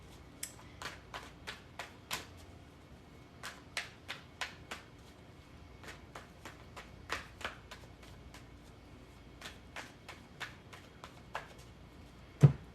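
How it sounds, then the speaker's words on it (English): A deck of cards being shuffled close by, a series of sharp riffling bursts in an uneven rhythm with quiet gaps between them and a louder knock at the end, with no talking. "I think I shuffled those well enough."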